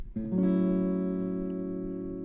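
A few guitar notes of an A6 lick are plucked quickly and then blend into one sustained chord that rings out and slowly fades.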